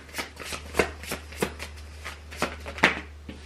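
Tarot cards being shuffled alone at close range, a steady run of soft papery riffles and taps with a few sharper snaps, no voices.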